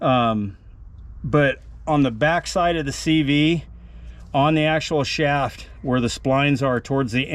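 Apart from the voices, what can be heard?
No everyday noise stands out behind the speech.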